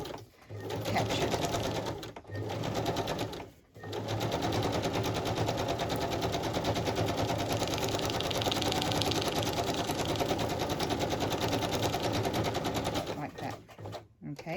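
A sewing machine stitching in circles around a fabric embellishment, a fast steady mechanical whir with brief pauses near the start and end, close up and loud.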